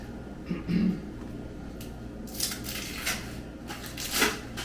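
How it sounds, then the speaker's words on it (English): A spoon stirs thick mac and cheese in a pot on the stovetop. A few soft scrapes and clinks come against the pot amid quiet kitchen background noise. "Notice I hold the handle as I stir"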